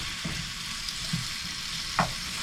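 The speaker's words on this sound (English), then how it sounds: "I'm just going to sweat the onions down a bit" Onions sweating over low heat in a pan in a narrowboat galley give a steady soft sizzle with a few faint clinks, close and fairly quiet, with no voices.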